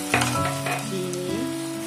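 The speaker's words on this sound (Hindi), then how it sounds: "अब हम डालेंगे इसमें दूध, घी छोड़ दिया है दाल ने, हमारा हलवा भून चुका है" Milk poured into roasted moong dal halwa hits hot ghee in a pan and sizzles, a loud burst of frying that settles into steady bubbling hiss, close up, no talking.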